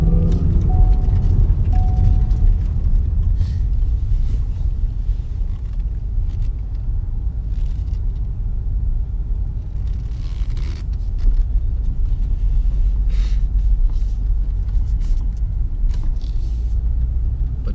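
A manual car driven in second gear, the engine giving a steady low rumble with road noise and faint creaks throughout, heard from inside the cabin with no talking.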